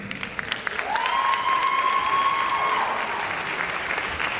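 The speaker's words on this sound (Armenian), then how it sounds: "Ողջունենք Ալիսա Ասմանյանին, բարձր ու գունեղ ծափահարություններով" An audience applauds as a guest from a chamber of commerce is invited onstage at a community event. Dense, steady clapping fills the room, with a sustained whistle-like tone ringing above it midway.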